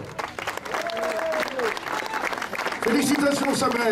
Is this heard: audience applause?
yes